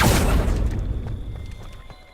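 A Confringo fire-blast spell explodes in the Hogwarts Legacy video game, a loud booming burst up front that decays into a rumbling tail over about two seconds.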